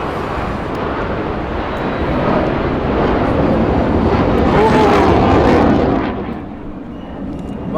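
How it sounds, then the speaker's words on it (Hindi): A fighter jet flies over, its roar swelling gradually, peaking loud around the middle, then dropping away as it passes, with broad rushing noise throughout. "That's a fighter jet."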